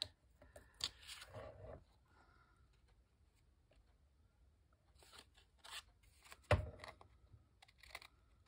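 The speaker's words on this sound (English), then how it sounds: "I'm going to cut around this quickly." Scissors cutting around paper, heard as quiet, close snips and crunching cuts in two separate bursts with a near-silent gap between them.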